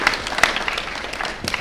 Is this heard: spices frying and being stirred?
no